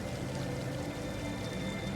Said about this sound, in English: Try not to listen to the flowing water.